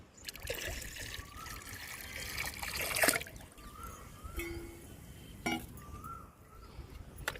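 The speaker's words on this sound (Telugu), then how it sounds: "బియ్యపు నీళ్ళను కూడా కలుపుతున్నాను" Fermented rice water being poured into water for a homemade plant fertilizer: a soft trickling pour with occasional clinks of a vessel, fairly close and without talk.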